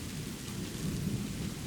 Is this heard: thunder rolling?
yes